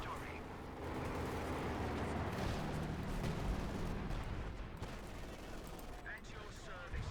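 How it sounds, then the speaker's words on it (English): Artillery and gunfire in a Company of Heroes 2 battle, a dense rumbling barrage of blasts and shots under continuous commentary. "So much artillery."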